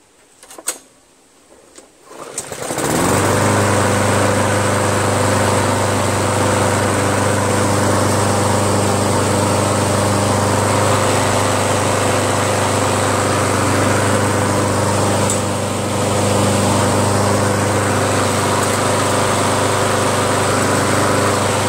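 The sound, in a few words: self-propelled lawn mower engine running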